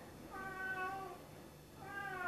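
A cat meows twice, a drawn-out harmonic call near the start and another at the end, moderately close over a quiet room background.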